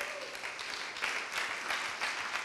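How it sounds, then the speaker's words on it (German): An audience at a talk claps for the guest speaker Dr. Bernd Schmid, a moderate, fairly even spread of many hands with slight surges, heard from a little distance. "Dr. Bernd Schmid, ein herzlicher Applaus."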